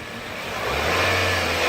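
A 2016 Nissan Sentra with a 130-horsepower engine and manual gearbox pulls hard under acceleration, its engine note rising steadily and growing louder over a short stretch, with no talking over it.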